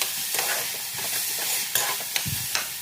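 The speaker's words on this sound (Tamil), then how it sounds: "இப்போ இது எல்லாத்தையும் நல்லா வதக்கி விடுங்க. தக்காளி மசிஞ்சு வர அளவுக்கு வதக்கி விடணும்." Ginger-garlic paste, green chillies, mint and tomato sautéing in hot oil for a mutton salna, a steady close sizzle broken by repeated spoon scrapes and stirring knocks against the pan, with no talking.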